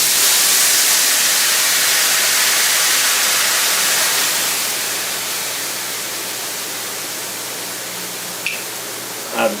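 Merlot red wine is poured into a hot pan still holding the juices from a seared filet mignon. It sets off a loud, close sizzle and hiss that gradually eases and softens over several seconds, ending with a couple of small clinks.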